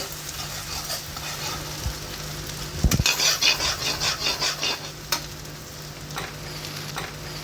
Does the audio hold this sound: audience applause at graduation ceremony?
no